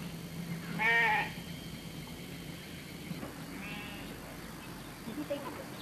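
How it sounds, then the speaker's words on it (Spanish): Sheep out at pasture on a rubber-growing smallholding give one loud nearby bleat, then a second, fainter bleat a few seconds later, over a quiet outdoor background. "Mientras fluye el látex, Haji lleva a pastar a sus ovejas"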